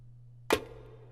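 A single sampled percussion hit from a trap drum kit, a sharp transient decaying quickly over a steady low hum, heard alone with no voices.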